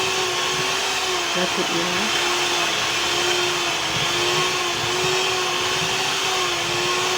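An electric stand mixer kneads burger bun dough at high speed, giving a loud, steady motor drone that runs unbroken throughout. A voice speaks briefly and faintly under the noise.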